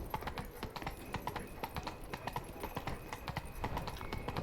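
Hooves of Roach, the horse in The Witcher 3: Blood and Wine, galloping in a fast, steady clip-clop rhythm close up throughout, with game ambience beneath and a brief whinny-like edge near the start.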